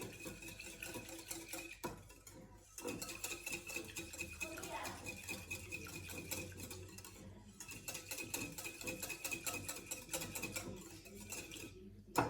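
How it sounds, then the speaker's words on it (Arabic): Steady rhythmic clinking and swishing of milk being whisked and stirred in a pot for homemade raib, continuous and close with brief pauses, faint background talk at moments. "صافي غادي نطرب هادشي مزيان نخلطو"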